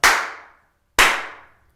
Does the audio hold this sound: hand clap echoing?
yes